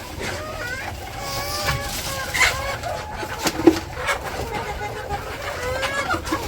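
Backyard village chickens cluck and call in repeated short, close bursts, with faint voices in the background.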